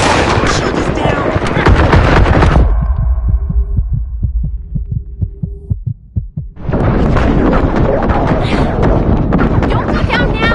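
Rapid bursts of gunfire from the shooter video game The First Descendant, loud and dense, drop away into a sparse run of single heavy shots over a low hum before the barrage returns.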